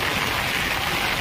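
Heavy monsoon rain falls with wind, heard from a rooftop as a dense, continuous hiss and patter, loud and unbroken throughout.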